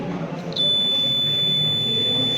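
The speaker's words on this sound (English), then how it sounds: "then a buzzer sounds" A piercing electronic buzzer on a science exhibition track-break sensor starts abruptly and holds a steady high tone over low background room noise, continuing without a break.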